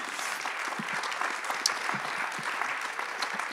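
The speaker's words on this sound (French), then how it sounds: "On peut les applaudir." Audience at a forum on urban resilience applauds, a fairly quiet, even spread of many hands clapping heard from a little distance, steady throughout.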